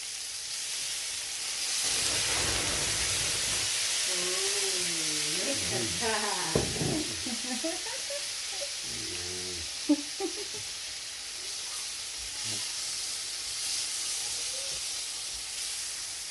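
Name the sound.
rump steak sizzling in a pan with butter and white wine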